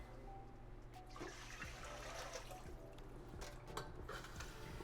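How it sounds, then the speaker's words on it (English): Tap water runs steadily into a kettle in a home kitchen during barbecue prep, a continuous close rushing hiss with faint clinks, no voices. "Get a bit of water in the kettle."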